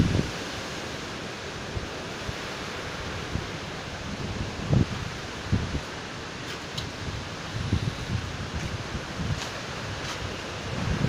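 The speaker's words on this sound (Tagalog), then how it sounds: "Grabe ang bagyo." Strong typhoon wind in Batangas, Philippines, roars continuously with gusty buffeting against the microphone, a dense rushing noise that swells and dips without pause.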